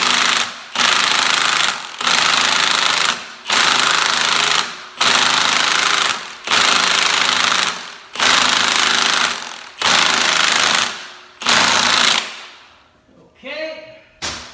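An impact gun drives in the camshaft bolt on a 5.3L LS engine in loud, repeated bursts of hammering rattle, about eight in a row separated by short pauses, followed by fainter clinks at the end.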